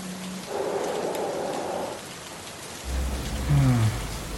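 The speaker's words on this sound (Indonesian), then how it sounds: "jangan hujan-hujanan, nanti meriang loh" Rain falling steadily, a soft continuous hiss of drops on surfaces throughout, with brief faint tones and a low rumble entering near the end.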